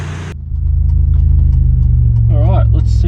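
A Nissan Navara with a VG30 engine and raised boost idles loud and close as it warms up, a steady throbbing rumble, with someone speaking over it near the end.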